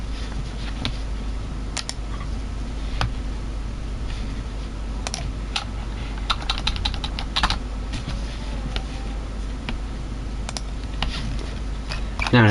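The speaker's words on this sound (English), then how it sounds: "Sorry for all the clicking" Rapid, irregular clicking of a computer keyboard during typing, loud and close, with bursts of keystrokes over a steady hum, during a Silverstone sim-racing league broadcast.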